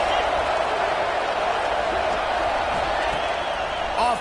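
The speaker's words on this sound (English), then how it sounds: "how nice is it to have the home crowd going absolutely bananas" A home football crowd at a Clemson versus Florida Gators game roars loudly and continuously, a broad wash of cheering with a commentator talking over it.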